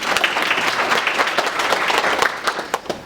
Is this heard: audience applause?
yes